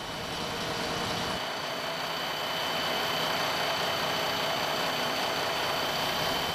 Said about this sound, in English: The lab technician runs a standardized program to simulate the engine function under real-world conditions with acceleration, full capacity operation, and braking phases.